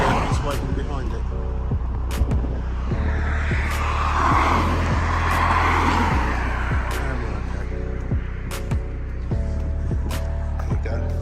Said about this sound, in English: Great lorry came, followed by fast moving vehicles waiting behind it.